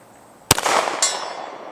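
A single sharp shot from a Canik TP9 Elite SC pistol at an outdoor range, followed about half a second later by a faint metallic clang as the round strikes a distant steel silhouette target.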